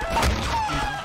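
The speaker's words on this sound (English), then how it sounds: "I know they're just chickens" Chicken NPC in a Garry's Mod game, a short agitated cluck or squawk, close and fairly loud against a low background hum, with no talking.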